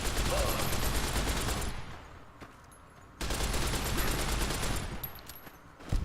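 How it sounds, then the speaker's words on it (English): A 10mm submachine gun fires in Fallout New Vegas during combat at McCarran, two loud sustained bursts of rapid automatic fire separated by a short lull, close and harsh. "10mm submachine gun"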